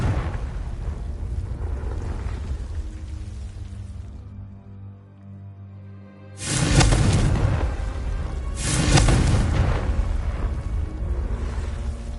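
A Confringo fire spell bursts into a loud explosion in Hogwarts Legacy on PS5, with two heavy booming blasts a couple of seconds apart following a quieter stretch of game ambience.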